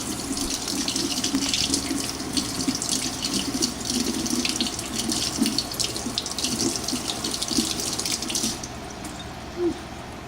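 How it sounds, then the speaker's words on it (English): Strawberries being rinsed under a running kitchen tap, a steady close splash of water into a sink that carries on without break for about eight seconds before it stops. "Always rinse off your fruit."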